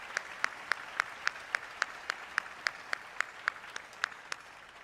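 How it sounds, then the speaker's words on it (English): Evenly spaced, crisp claps, about three per second, at a calendar unveiling ceremony, moderately close and without voices, more like a few people clapping in rhythm than a full crowd. "Let's give him a big round of applause."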